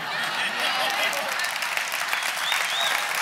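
Listeners at a church sermon break into sustained applause: a lively, close, continuous patter of many hands that stays loud throughout, with faint crowd murmur mixed in.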